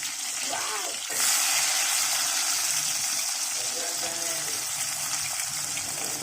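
Chopped medium-sized onions fry in hot oil in a pan, giving a steady, close sizzle that swells slightly louder after the first second and holds evenly with no talking over it.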